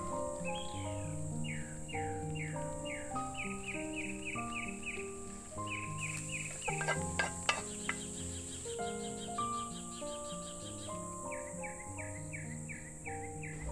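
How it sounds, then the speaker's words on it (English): Several birds chirp and trill in repeated bursts, some close and clear, others fainter, over a soft background of insects and low tones. "listen to the evening bird chirping"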